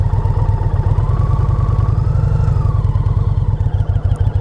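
A 2020 Indian Challenger motorcycle engine rumbles steadily up close at low speed during slow maneuvers, a loud, continuous low throb with a rapid pulsing firing rhythm and no talk over it.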